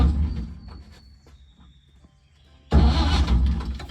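The starter on a 1950 Chevrolet 4400 dump truck cranks the engine in a brief, loud, close burst that starts abruptly after a quieter stretch of faint shuffling.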